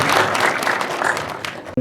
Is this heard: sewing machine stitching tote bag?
no